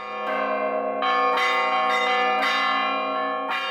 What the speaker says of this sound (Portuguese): Um toque de sinos, único de São João del Rei, anuncia a festa da Boa Morte.